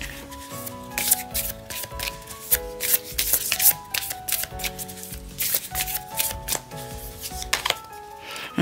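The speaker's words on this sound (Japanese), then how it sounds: "オラクルカードも引いてみたいと思います" Oracle cards being shuffled by hand, a run of brisk riffling and rubbing bursts in uneven rhythm, close and fairly quiet, over soft background music.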